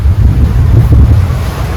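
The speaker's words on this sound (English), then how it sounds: "Waves are really crazy" Rough sea waves around a sailboat, a loud continuous roar of water and wind buffeting the microphone with no breaks.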